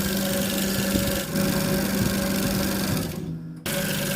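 A coil winding machine for a 36-inch ceiling fan runs with a steady mechanical whir and hum, briefly cutting out near the end before starting up again.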